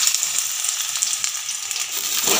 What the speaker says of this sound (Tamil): இந்த பாவக்காயை வந்து நம்ம போய் எண்ணெயில் போட்டு பொரிச்சுக்கலாங்க